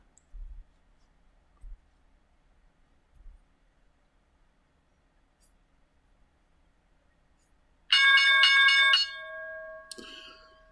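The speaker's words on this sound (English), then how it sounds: "So that's the market bell." A loud electronic stock market closing bell rings steadily for about two seconds, then gives way to a fainter tone after a mostly quiet stretch with a few soft thumps.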